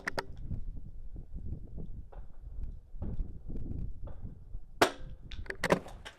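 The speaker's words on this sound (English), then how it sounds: "I'm going to break these 2 shots and then transition up to the top of the barrel." .22 rifle firing two shots in an NRL22 precision match, sharp close cracks near the end of the clip with a brief pause between them after low background noise and handling sounds.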